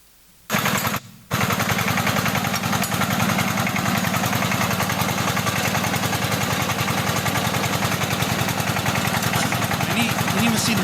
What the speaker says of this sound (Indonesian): Ini mesin bornya saudara.